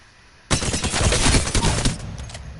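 The Alternator SMG in Apex Legends fires one loud, close, rapid automatic burst lasting about one and a half seconds, starting abruptly and then trailing off.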